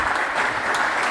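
An audience applauds speakers on a stage, with a dense, even round of many hands clapping close and loud, steady throughout.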